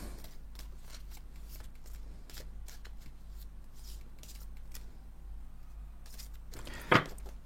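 A deck of tarot cards is handled with soft, intermittent riffling and tapping, faint and close, ending in one sharp louder snap as the deck is cut.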